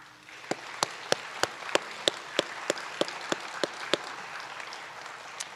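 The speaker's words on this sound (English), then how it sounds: "we'll give you a round of applause" Slow, evenly spaced claps, about a dozen sharp hits from a small group at a school board of education meeting, fairly close, fading out after a few seconds over a quiet room.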